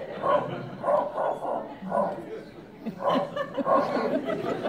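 A man imitates a distant dog barking without moving his lips, producing a series of soft, muffled yaps in short bursts, with laughter from people nearby.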